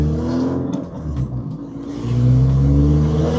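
A Renault Clio 182 engine drones steadily from inside the car on a test drive, dipping briefly and then building into a louder, rising rev as the car accelerates, with no talking.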